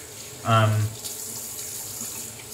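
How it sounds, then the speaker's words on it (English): Tap water running into a bowl of shaving lather during a wet shave, a short loud gush lasting under half a second, then quieter room tone. "I am going to add some more water to that."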